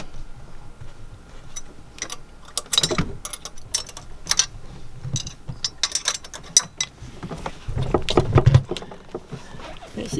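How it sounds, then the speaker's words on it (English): A ratchet drives cap screws into a Northern Lights 12kW generator's cylinder head, giving repeated quick clicking bursts and metallic rattles spread over the stretch, with a heavier clunk near the end. "Screwing in 3 of the cap screws."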